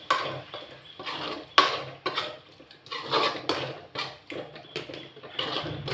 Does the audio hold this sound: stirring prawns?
yes